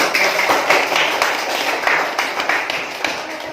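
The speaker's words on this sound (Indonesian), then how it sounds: "Tepuk tangan." Classroom applause from a group of students, a lively burst of hand claps with dense irregular slaps that holds steady throughout.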